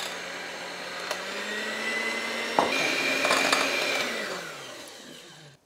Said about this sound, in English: mix them using an electric hand whisk